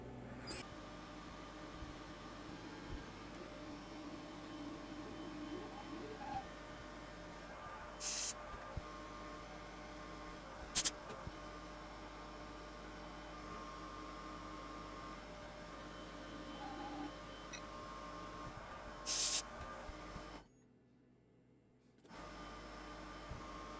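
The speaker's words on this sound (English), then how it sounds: "taking a plunge cut until I'm almost at the diameter of this shaft here. This takes some time. This is manual work." A manual lathe takes a slow plunge cut on a metal shaft, giving a steady low machine hum with faint cutting hiss, a few brief sharp squeals and one short drop to near silence.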